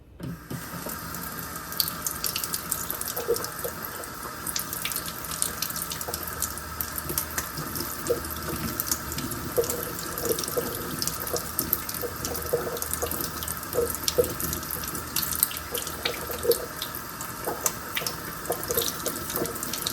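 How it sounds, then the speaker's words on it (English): Water runs from a kitchen sink tap while tomato seeds are rinsed, a steady close hiss and splash with small clinks and no talking throughout. "Turn the water on."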